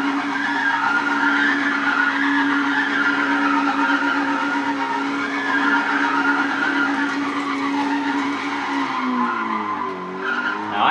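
Tyres of a Lotus skid continuously in a racing video game, a loud sustained screech over engine drone that shifts pitch near the end, with no talk.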